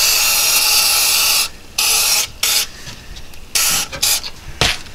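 Aerosol can spraying rubberized undercoating inside a Chevy Colorado frame, loud steady hiss for about a second and a half, then a series of shorter close spray bursts with brief gaps.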